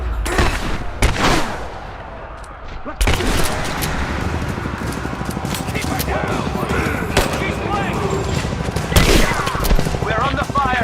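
Bursts of automatic gunfire and single shots crackle through a firefight at the edge of a village in the video game Rise of the Tomb Raider, continuous and loud, with voices calling out over the shooting.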